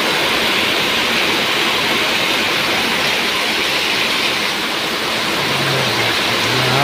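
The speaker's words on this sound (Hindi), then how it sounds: "आज बारिश आई इतने दिनों बाद" Steady rain pours down in a continuous, dense, close hiss with no pauses, and a faint low hum appears near the end.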